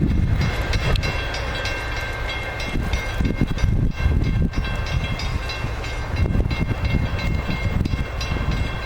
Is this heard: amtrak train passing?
yes